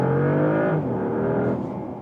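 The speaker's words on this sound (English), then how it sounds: "And we can one more time try it with the hybrid then, when I'm accelerating a little bit harder." A Porsche Panamera hybrid accelerates hard, its engine giving a loud, continuous harmonic drone heard from inside the cabin, the tone shifting as it builds speed.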